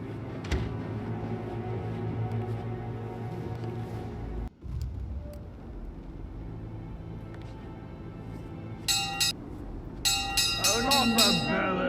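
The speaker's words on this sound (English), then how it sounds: "It wasn't Alexa who rang the bell." A bell rings out in the Dartmoor manor of Hitman 3 after a piano scene: repeated bright, metallic strikes near the end over a steady low ambient hum, with a short dip in the middle.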